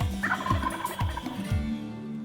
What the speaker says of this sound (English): here came the toms again, gobbling away with each of my calls